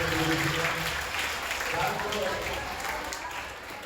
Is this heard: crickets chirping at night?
no